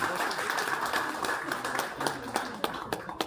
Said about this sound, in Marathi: एकदा रोहित दादा पिसाळा दादांसाठी एकदा जोरदार टाळ्या होऊन जाते मित्र.